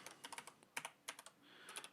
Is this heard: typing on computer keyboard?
yes